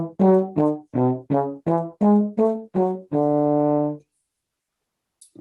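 Trombone plays ascending then descending triads as a run of detached, brassy notes in steady rhythm, ending on a longer held tone, close and alone.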